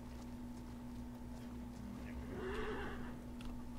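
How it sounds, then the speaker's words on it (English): A horse stuck against a ship in the Atlas video game gives a faint, short whinny partway through, heard softly under a low steady hum. "there's a horse stuck against our ship."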